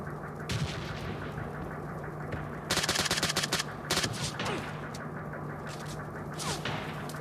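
Gunfire in PUBG Mobile Lite, with several bursts of rapid shots from a Kar98-style rifle and automatic weapons. The loud clusters of cracks arrive at intervals over a steady background hum of game ambience.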